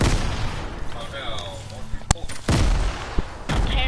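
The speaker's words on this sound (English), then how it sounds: "Oh no, they're chucking grenades at us." Gunfire and grenade blasts in a video game: loud, sharp cracks and heavy booming bursts at irregular moments, with voices talking over the action.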